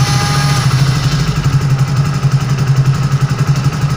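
A motorcycle engine idles steadily with a low, throbbing rumble, close and fairly loud, with no voices.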